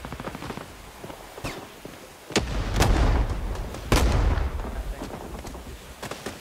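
Hand grenade explosions in the video game Rising Storm 2: Vietnam, with two heavy, booming blasts a second or so apart that roll into a low rumble, amid scattered distant gunfire and battle noise.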